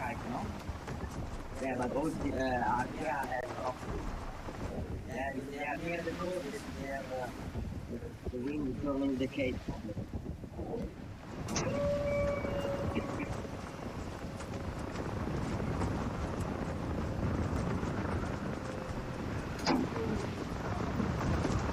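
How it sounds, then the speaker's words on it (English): Hydraulic keel pump swinging the canting keel aboard an Ocean Race sailing yacht, a steady mechanical whine running for several seconds amid wind and water noise after a stretch of onboard talk. "When you hear that noise, that pump, that is the keel swinging from one side to the other side."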